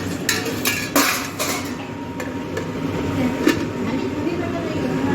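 A metal lid is set on a cooking pot of fish curry on a gas stove, giving a few sharp clanks over a steady low rumble of background noise.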